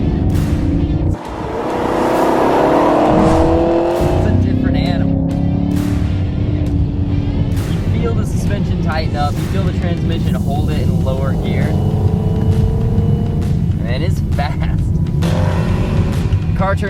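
A Chevrolet Camaro 2SS with 455 horsepower, switched into sport or track mode, revs loudly up close with a rising engine roar that holds strong, while someone talks over it throughout.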